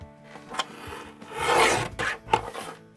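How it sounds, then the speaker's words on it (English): A narrow strip of pattern paper is trimmed for a mini album insert, giving a few close, rasping slide-and-scrape strokes with short pauses between them and no voices. "I'm going to trim a narrow strip of this pattern paper to hide where these two pieces are going to meet"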